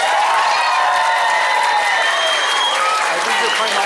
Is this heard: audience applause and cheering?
yes